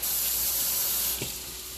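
A kitchen tap runs in a steady hissing spray while something is washed, then the flow cuts off abruptly, leaving a quiet room tone.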